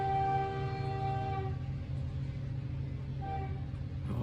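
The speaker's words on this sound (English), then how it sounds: "You guys can hear that train? Listen in the background." Train rolling along nearby railroad tracks just across the street, a steady low rumble with sustained horn-like tones that fade after about a second and a half, then briefly return.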